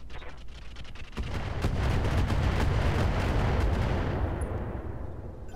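Incendiary weapons fire in the mech combat game Roguetech, a sustained booming roar of launches and explosions that swells after a second and rumbles steadily, loud and dense with no voices.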